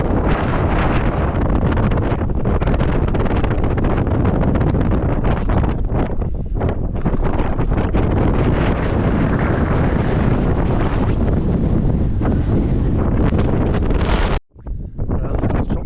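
Strong wind roars and buffets the microphone on the exposed summit of Ben Lomond, a loud continuous rumbling gust broken by one brief drop near the end.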